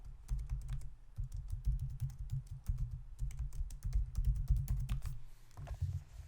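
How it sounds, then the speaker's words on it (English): Rapid, steady clatter of keys on a computer keyboard as a search query is typed in a browser, close and clear with brief pauses between bursts, no voices. "I can go out and type in Chrome Developer Tools tutorial"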